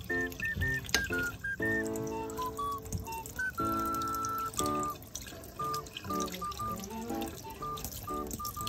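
Water pours into a cup in a series of short, bright trickles and longer gurgling fills, close and fairly loud, with clinks and stops in between.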